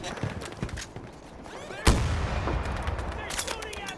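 A single sharp, booming shot rings out in the video game Battlefield 2042 amid ongoing battle noise, with fainter distant gunfire and clatter before and after.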